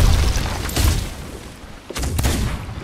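Gunfire and cannon-like booms in the pirate video game Sea of Thieves, with two clusters of loud bursts about a second apart over a steady rumbling game background.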